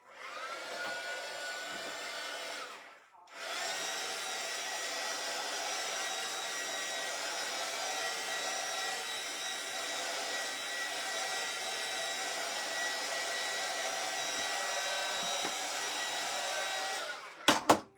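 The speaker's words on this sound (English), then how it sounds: "I really don't like to dry over my stencils. Not with my heat gun." A heat gun drying paint blows with a steady, loud whooshing hum, briefly cut off once early on, then running continuously until it clicks off at the end.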